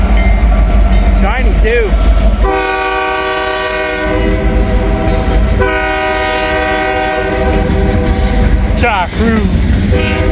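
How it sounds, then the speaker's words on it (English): An SD70ACE diesel locomotive rolls past at a grade crossing, sounding its loud multi-tone horn in two long blasts over the rumble and clatter of the train, close by, with brief voices over it. "Another SD70 Ace."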